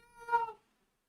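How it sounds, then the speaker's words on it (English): A single close cat meow, rising and fading over about half a second, followed by silence. "everyone's meowing"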